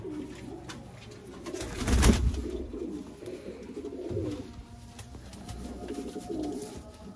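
Sialkoti and Kasuri crossbred pigeons coo softly and repeatedly at close range, with a louder burst of cooing in the middle over faint background noise.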